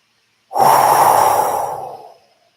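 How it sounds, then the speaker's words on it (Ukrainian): One long, strong breath pushed out through the mouth during a breathing exercise, a close, loud airy rush that fades over about a second and a half, with silence before and after. "зробіть сильний видих через рот"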